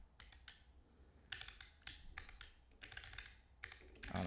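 Rapid keystrokes on a computer keyboard come in several close bursts of clicking with short pauses between them, heard nearby with no talking.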